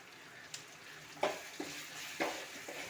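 A handful of washed curry leaves hitting hot oil in a pan for egg fried rice, giving a soft, steady sizzle broken by a few faint stirring clinks.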